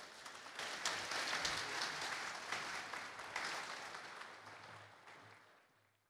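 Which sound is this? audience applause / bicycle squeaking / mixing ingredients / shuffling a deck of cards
audience applause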